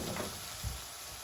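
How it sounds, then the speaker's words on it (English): Small meatballs fry in hot oil in a pan for a banh mi, a steady broadband sizzle running throughout with a brief low bump as the pan is shaken, close and moderately loud with no talk. "keeping an eye on your little meatballs, move the pan around, make sure that oil's coating them on the bottom"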